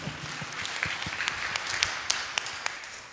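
A church youth congregation applauds, a moderate patter of scattered hand claps with a few sharp individual claps standing out, fading after about three seconds.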